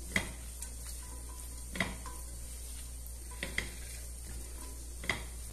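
A spoon stirs cooked couscous into an egg mixture in a pan, giving faint scraping and soft, sizzling frying under a few sharp clinks of the utensil against the pan, close and quiet.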